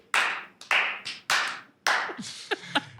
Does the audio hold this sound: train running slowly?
no